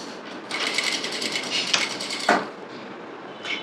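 Sewing machine stitching salwar pants with a back stitch, a close, loud mechanical whirring run of rapid needle strokes with a couple of sharp clunks, then a short burst at the end.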